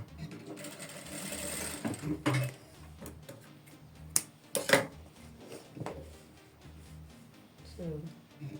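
A sewing machine stitches straight quilting lines on a bustier in short, quiet bursts of rapid mechanical chatter, broken by clicks and handling sounds, with a voice speaking softly in between.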